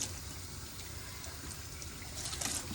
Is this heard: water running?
yes